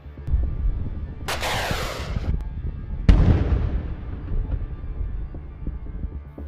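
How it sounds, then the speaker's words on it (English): Explosions destroying a Russian armored personnel carrier in combat, two sharp booming blasts a couple of seconds apart, each with a crackling tail, over a constant low rumble. "The APC was completely blown apart."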